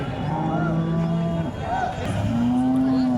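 At the Sangola livestock market, a cow gives several long, loud moos close by while people talk in the background.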